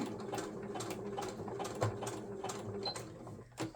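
Sewing machine running a quick stitch on fabric for a fabric collage snippet roll, giving a faint, steady fast mechanical whir with small ticks throughout a few seconds of low-level sound.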